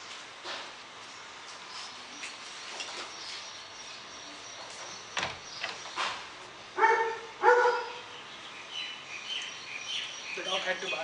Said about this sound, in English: The dog had to bark now.